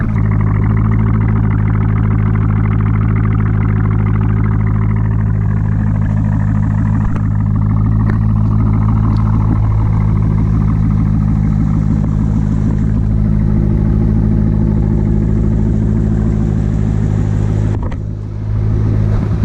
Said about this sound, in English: Exhaust doesn't sound bad.